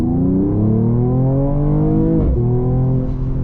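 A 2022 Mercedes-AMG CLS 53 accelerates hard at full throttle, its engine note climbing steadily through the revs, dipping briefly at a gear change, then rising again, loud and close from inside the cabin.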